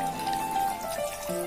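Water pours and trickles steadily as deity idols are bathed with freshly bloomed flowers at a home altar, a short close splashing stream with no talk.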